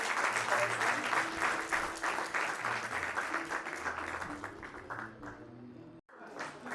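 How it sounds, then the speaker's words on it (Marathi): Loud, dense applause at a Jalgaon Rotary Club event installing a new president, with faint tones and voices beneath it. The clapping stays strong for about five seconds, then thins out and briefly drops away near the end. "जोरदार टाळ्या"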